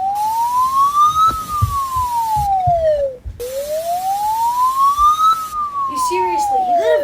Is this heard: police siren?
yes